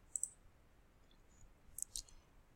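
Faint computer mouse clicks in a quiet room: a quick double click near the start and another pair of sharp ticks near the end.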